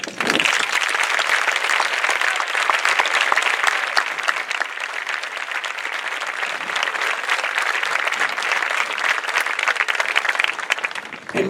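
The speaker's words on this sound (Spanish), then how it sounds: "creo que de verdad se merecen un aplauso" Sustained audience applause at an anniversary event in the Balearic Islands, a dense, steady wash of many hands clapping, loud and unbroken for about eleven seconds before tapering at the end.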